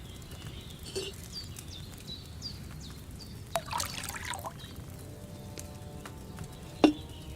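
Liquid trickling into a cauldron in the medieval game Kingdom Come: Deliverance II, a faint steady dribble with occasional splashy patters and a sharp clink near the end, quiet throughout.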